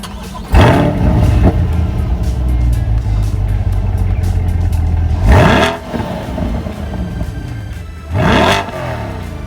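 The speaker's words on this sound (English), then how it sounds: "this is my 2020 Sebring Orange two-tone blue interior 2020 Corvette Stingray Coupe" A 2020 Chevrolet C8 Corvette Stingray coupe with its mid-mounted engine revs in three sharp bursts that rise and fall, close by and loud, over a steady idle rumble between them.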